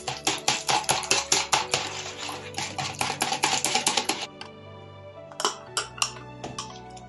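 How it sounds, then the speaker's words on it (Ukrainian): Rapid clinking strokes of a whisk in a bowl as sugar and salt are beaten for pan pizza dough, a dense rhythmic run that breaks off, then a few scattered taps after a pause. "Всипаємо цукор та сіль і збиваємо."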